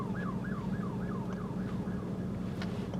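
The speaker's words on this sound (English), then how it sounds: "Sirens. Y'all hear them?" A distant wailing siren rises and falls in repeated quick cycles over a steady low rumble of traffic, with no talking.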